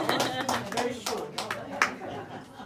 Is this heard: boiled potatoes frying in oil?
no